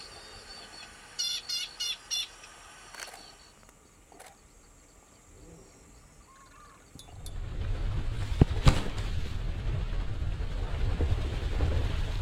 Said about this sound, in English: Plain prinias are small birds usually found in the grasslands